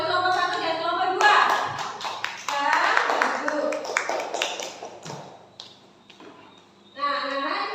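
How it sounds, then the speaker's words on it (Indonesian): Children in a classroom clap for two student groups, a busy patter of hand claps mixed with chatter and shuffling, fading toward the end before a voice comes back in. "Tepuk tangan buat kelompok 1 dan kelompok 2."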